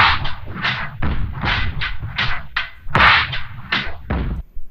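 A slow, heavy drum loop with punchy kicks and cracking snares spaced out in a laid-back half-time groove, loud and unaccompanied.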